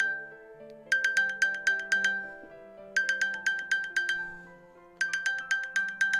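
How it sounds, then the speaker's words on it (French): An iPhone 12 Pro Max on iOS 16 plays its Find My alert tone, three repeated bursts of bright, rapid chiming notes over a soft synth bed, each burst about two seconds long, loud and close. "voici donc la toute nouvelle sonnerie que vous allez retrouver lorsque vous allez rechercher votre iPhone"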